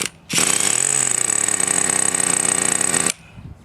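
Traxxas T-Maxx nitro RC truck engine idling after a fuel leak fix, a loud, buzzy high-pitched rattle that starts abruptly, runs steadily for about three seconds, then cuts off.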